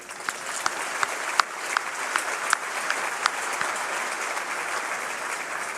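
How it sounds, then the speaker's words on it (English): Sustained audience applause at a high school graduation ceremony, a steady wash of many hands clapping with a few sharper claps standing out, continuous for several seconds with no talking. "please join me in extending a round of applause for those individuals who got you here today"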